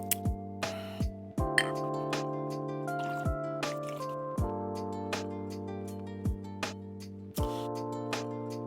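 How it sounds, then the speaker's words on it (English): Bazooka bubble gum soda pours into a glass of ice, giving a series of sharp clinks and drips with bright ringing tones, close and fairly quiet, with no talking. "let's go ahead and grab our trusty glass with ice, give it the old pour"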